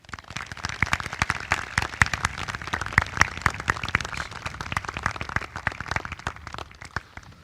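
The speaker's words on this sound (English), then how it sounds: "A special round of applause for Mrs. Kate Antal and Mrs. Kristen Gennaro." A graduation audience applauds its class advisors at a commencement ceremony, with dense, steady clapping from many hands filling the hall without pause.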